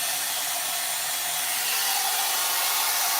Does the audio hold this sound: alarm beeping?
no